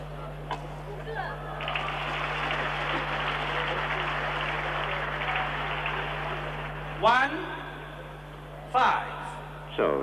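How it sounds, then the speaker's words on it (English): Thin, scattered applause from an arena crowd at the 1992 Uber Cup badminton final for Bang Soohyun, a steady wash lasting several seconds before someone commentator's voice cuts in over it. "Pathetic applause for Bang Soohyun"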